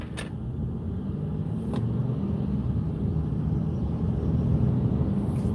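A Ford Focus wagon idles and revs beside the listener in traffic, giving a steady low engine rumble with a rising, turbo-like hum, heard from inside another car with no talk.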